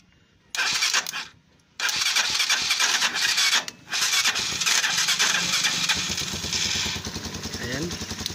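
Motorcycle engine cranked with the starter relay bypassed, several whirring starter bursts separated by short pauses, then catching and running steadily.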